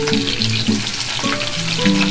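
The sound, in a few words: onions frying in hot oil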